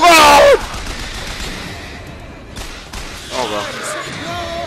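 A sniper rifle shot in the first-person shooter BioShock Infinite cracks out loud and sharp at the start, followed by quieter game effects and a person talking over the gameplay.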